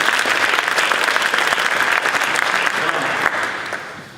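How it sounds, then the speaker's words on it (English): A dinner audience at a Phil Murphy event applauds for a cantor, with steady, dense clapping from a large crowd that holds loud and fades slightly at the end, with faint voices mixed in. "God, we got to give her applause for her."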